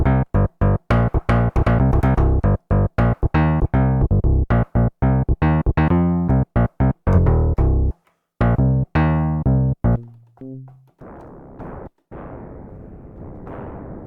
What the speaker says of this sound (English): That's the famous DX7 bass sound.